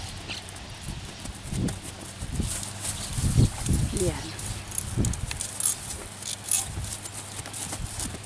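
Irregular hoof clops of a black tobiano horse on the ground, moderately distant, with people talking in Spanish in the background.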